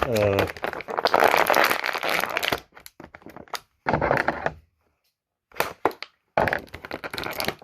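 Crinkling, cracking plastic clamshell packaging and plastic ties being pried and cut open with scissors, in bursts with short pauses, close and fairly loud.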